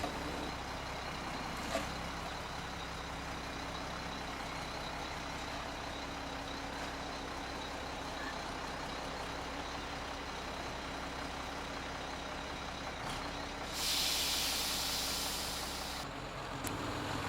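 Heavy trucks rolling in for a house move idle and rumble steadily at a driveway, with a brief burst of air-brake hiss near the end and a faint, intermittent tonal beep that could be a reversing alarm.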